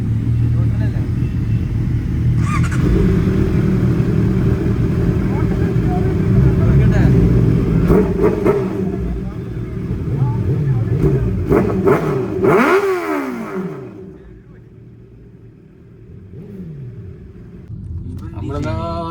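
A superbike engine starts and settles into a deep, steady idle, then gets a couple of sharp throttle revs that rise and fall before easing back to a low rumble, with faint voices nearby.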